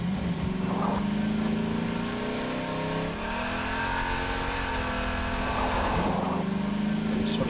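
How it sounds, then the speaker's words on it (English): A car engine in the video game Half-Life 2 revs and accelerates steadily, loud and close, with the pitch climbing, dipping briefly around a gear change, then rising again. "Let's just get in the car and punch it."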